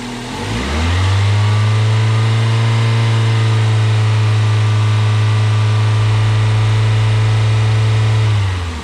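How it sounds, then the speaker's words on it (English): A car engine is revved and held at about 2500 RPM for several seconds during a battery and charging-system test, giving a loud, steady raised drone that rises quickly, holds evenly and then drops back at the end. "Now it's asking us to increase to 2500 RPM for 5 seconds."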